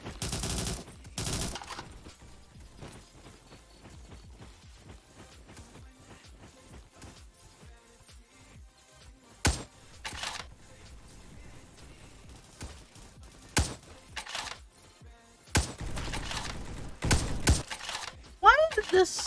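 Gunfire from a hardscoped gun in a video game, with a handful of loud, sharp shot bursts spread irregularly across the span, some closely bunched near the end, while a person talks over the game sounds.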